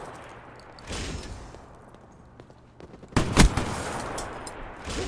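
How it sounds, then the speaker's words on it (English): A sentry gun in Black Ops 3 hardcore free-for-all rattles off bursts of fire, a lighter stretch early on, then a loud, close barrage for the final two seconds. "Look, got my sentry gun."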